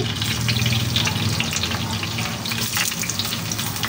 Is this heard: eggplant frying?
yes